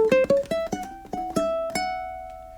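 A short blues melodic run picked on a solo ukulele, a quick series of about eight plucked notes close up, ending on a sustained note that fades out.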